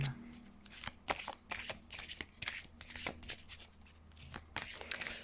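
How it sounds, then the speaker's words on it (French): Tarot cards are shuffled for a reading, close and quiet, in repeated quick riffling bursts with short pauses between them, crisp papery flutters over a soft room background. "On va se tirer 5 cartes."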